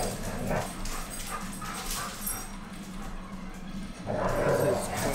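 Dogs at play give off a string of yips, whimpers and small barks that run beneath talk and a steady background bed, swelling louder near the end.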